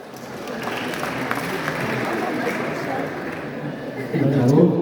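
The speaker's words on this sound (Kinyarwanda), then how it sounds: "Abahungu bari hano mukoma amashyi." An audience at a summer comedy show applauds, and the clapping blends into a dense, steady wash of crowd noise. It swells slightly louder toward the end, and voices are mixed in throughout.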